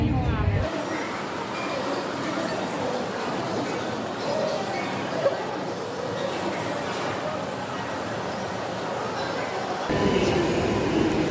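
A Delhi Metro train heading toward Kalkaji, its steady rumble and rail noise filling the carriage throughout the ride, with a brief shift near the end.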